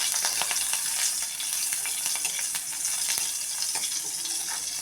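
Sliced green chillies frying in oil give a soft, steady sizzle with light crackles, fairly quiet and heard close up.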